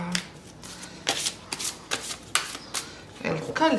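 A deck of tarot cards being shuffled by hand, a series of quick riffling bursts, close and fairly quiet, several in succession with short pauses between.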